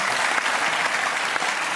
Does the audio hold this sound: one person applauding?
yes